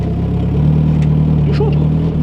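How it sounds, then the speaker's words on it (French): A car engine with an exhaust leak runs close by, a loud, steady idle hum with a pronounced low drone, with some faint background sounds. "C'est moi ou il y a une fuite d'échappement?"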